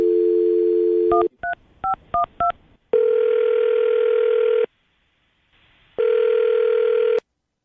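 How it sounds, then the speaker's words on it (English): A telephone dial tone is followed by a quick run of keypad DTMF beeps as a number is dialed, then long ringback tones separated by a short pause. The tones are loud and clear, with no talking. "I'm going to dial her phone number right now"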